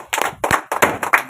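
Several people clap together at a cake-cutting celebration, with short bursts of clapping broken by brief pauses and a few quieter single claps.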